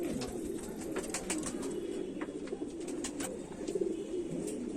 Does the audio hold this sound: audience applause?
no